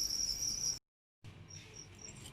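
Crickets in collection boxes chirp in a steady, shrill trill close by, cut by a brief moment of silence before the faint chirping resumes.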